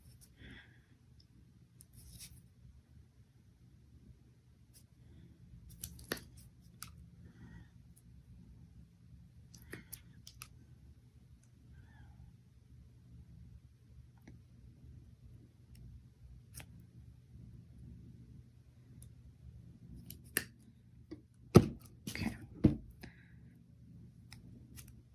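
Scissors snip paper flower stems in a quiet room, a handful of faint scattered clicks over a low hum, with a tighter cluster of sharper cuts near the end.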